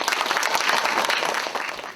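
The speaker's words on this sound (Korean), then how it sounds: "모두 따뜻한 박수로 부탁드립니다" An audience at a regional dialect-speaking contest in Korea gives warm applause to welcome a speaker: loud, dense clapping from many hands filling the hall, steady and unbroken.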